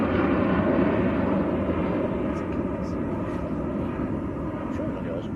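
A Ryanair airliner passes over Manchester Airport as a sustained, loud engine rumble that eases slightly as it goes by, with faint speech in the background.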